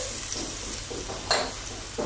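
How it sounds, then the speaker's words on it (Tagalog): Minced garlic hitting hot olive oil in a pan, a steady loud sizzle with brief scraping stirs and a metallic clink partway through. "now we put the minced garlic"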